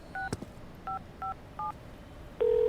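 A phone number is dialed as a short run of separate keypad tones with even gaps between them, then a steady ringback tone begins at the end, all quiet and close.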